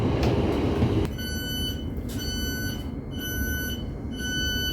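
A train rolls into Welling station, its wheels rumbling beneath sustained high metallic squeals and tones that come and go.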